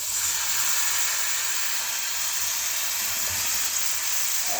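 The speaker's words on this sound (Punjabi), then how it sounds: "ਹੁਣ ਦੇਖੋ ਅਸੀਂ ਆਪਣਾ ਜਿਹੜਾ ਦਹੀਂ ਲਿਆ ਹੈ ਅਸੀਂ ਆਪਣਾ ਉਹ ਪਾ ਦਾਂਗੇ" Stuffed bitter gourds sizzling in a pan as yogurt goes in, a loud, steady hiss of frying that fills the whole stretch with no pauses.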